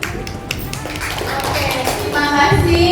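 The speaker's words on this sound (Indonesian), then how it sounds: "Beri tepuk tangan sekali lagi untuk kita semua" Applause from a class of students, quick overlapping hand claps at moderate loudness, mixed with voices of children and adults talking over it.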